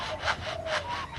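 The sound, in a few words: lyrebird imitating a handsaw sawing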